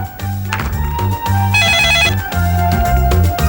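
Telephone ringing late at night indoors, a loud electronic trill repeating in bursts and layered over a steady musical background.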